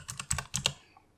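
Several quick clicking keystrokes on a computer keyboard as a word is typed, a short irregular burst of taps close by that fades out after about two-thirds of a second.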